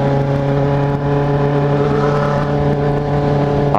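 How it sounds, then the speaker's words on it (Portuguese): A blue Ferrari's engine roars loud and close, a steady, strongly tonal drone that holds throughout without any voices over it. "Ferrari azul."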